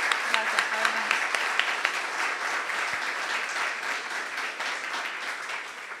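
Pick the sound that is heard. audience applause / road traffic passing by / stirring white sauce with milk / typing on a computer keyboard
audience applause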